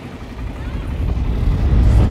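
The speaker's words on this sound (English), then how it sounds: "This is a quad bike." A quad bike engine drones on desert sand in Dubai, a low rumbling hum that grows louder and nearer over two seconds before cutting off abruptly.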